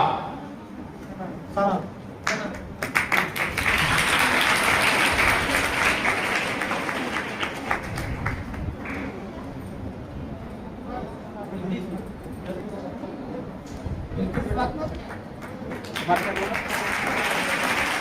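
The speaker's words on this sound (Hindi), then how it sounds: "बच्चियों के लिए तालियां बजती रहना चाहिए" Crowd applause for schoolgirls at a Gorakhpur community event, bursts of clapping that peak early then continue more loosely beneath a speaker's amplified voice.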